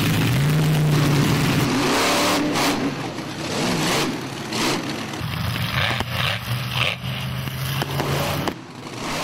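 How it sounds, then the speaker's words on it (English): Monster truck engines rev hard at an Australian car-crushing show, a loud climbing roar giving way to choppy bursts and crunching impacts as throttles blip up and down. "Outback Thunda crunching, car munching monster truck action there."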